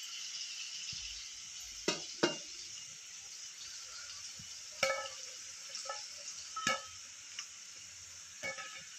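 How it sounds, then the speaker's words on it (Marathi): Modak frying one at a time in hot oil over low flame, a faint, soft sizzle with scattered crackles and occasional utensil clicks, quiet and close, no talk. "मग मंद आचेवर असे छान फ्राय करून घ्यायचे मोदक"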